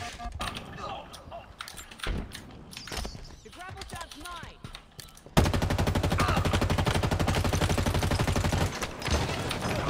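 Halo video game gunfire starts with scattered shots and short bursts, then turns into a loud sustained rapid stream of automatic fire, with players talking over it.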